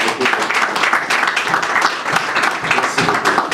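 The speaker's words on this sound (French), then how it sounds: "Est-ce que la sœur, tu peux te tenir debout et la salle peut applaudir." An audience at a Master's degree graduation ceremony applauds, a dense, loud, steady wash of many hands clapping that fills the hall throughout.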